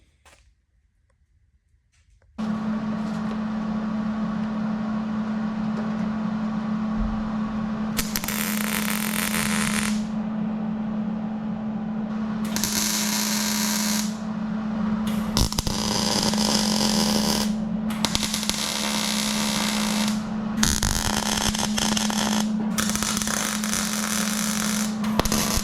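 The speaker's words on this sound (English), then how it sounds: "I'm going to do some tack welds because I like tack welding." Tack welds on a replacement door skin for a 1971 K5 Blazer make a series of crackling, buzzing bursts of several seconds each. They rise over a constant nearby electrical hum.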